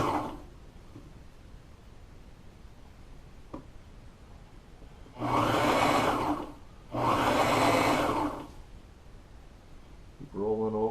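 Sewing machine stitching boat upholstery piping through a 1/4 inch cording foot, running in two loud bursts of steady whirring of a couple of seconds each, with quieter gaps between and a brief voice near the end.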